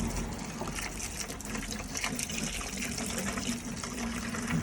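Water sloshing and swilling around inside a filthy, flooded Citroen C1 interior during a cleanout, a steady close wet churning and trickling that continues without a break, with no talk.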